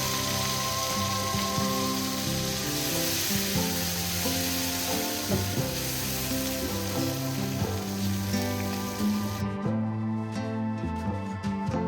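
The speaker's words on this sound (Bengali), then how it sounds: "পেঁয়াজগুলো ভালো করে এবার ভেজে নিই" Sliced onions fry in oil in a pan after cumin and bay leaf, making a continuous loud sizzle under steady background music that cuts off near the end.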